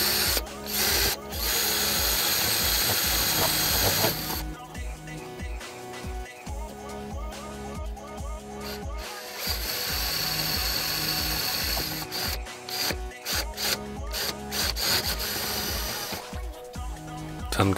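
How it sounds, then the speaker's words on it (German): A power drill whirs in bursts, grinding into a plastic 3D printer part with rattling, ratcheting noise between runs, close up and loud. "Und dann mache ich das eben so mit dem Bohrer."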